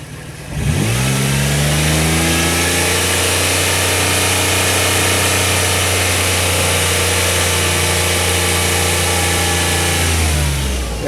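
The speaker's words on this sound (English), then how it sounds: "I'm gonna rev the engine again" A 1995 Ford SHO engine, mid alternator and serpentine belt tensioner swap, revs up sharply from idle, holds a loud steady high-rpm drone for about ten seconds, then drops back down.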